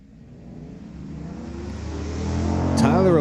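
A 1997 Chevy and a 2007 Chevrolet Silverado launch off the line at a street-legal drag strip, engine roar swelling steadily louder over about three seconds, ending in a sharp high-pitched burst.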